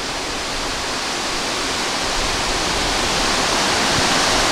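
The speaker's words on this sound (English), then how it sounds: "Nice waterfall." The Big Falls in Sir Richard Squires Memorial Park, Newfoundland, roaring in a steady, dense hiss, loud and constant throughout with no other sounds.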